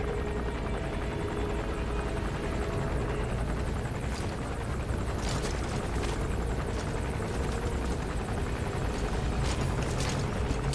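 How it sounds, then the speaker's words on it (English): A helicopter in Metal Gear Solid V: The Phantom Pain gives a loud, steady, dense rotor roar that lasts throughout without letup, with faint bursts of gunfire or impacts mixed in and no talking. "I really want to shoot down that helicopter."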